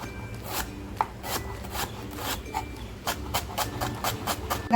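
A knife cutting green chillies crosswise into fine pieces on a board, a series of sharp, irregular chops and taps, close and moderately loud, with no talk.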